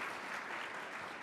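Brief, steady audience applause from a crowd at a nonprofit event held at the National Veterans Memorial Museum, heard as a dense wash of clapping at some distance.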